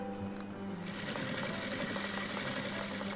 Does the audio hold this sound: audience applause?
no